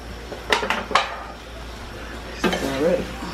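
Pepper steak with onions is stirred in a pan, with a few sharp scraping and clinking strokes of a utensil against the pan over a low sizzle, and a brief voice joins late.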